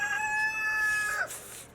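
A rooster crows once, loud and close, its long harmonic call held for about a second before breaking off into a rough tail.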